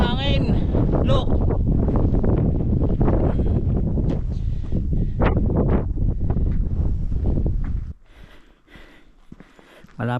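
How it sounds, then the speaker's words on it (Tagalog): Strong wind buffets the microphone along an exposed coastal path in Anglesey, Wales, a loud continuous roar that drops away sharply near the end, with people talking intermittently over it. "sarap ng hangin"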